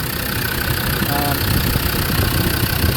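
Land Rover Defender TD5 diesel engine idling steadily with a rough, knocking low rumble, as someone talks over it.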